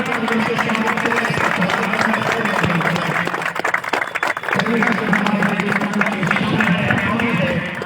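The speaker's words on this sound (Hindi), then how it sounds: "जोरदार तालियों से स्वागत करें।" A crowd applauds loudly to welcome a match at the Yscc Summer Cup, sustained clapping and cheering mixed with crowd babble and an amplified voice talking over it.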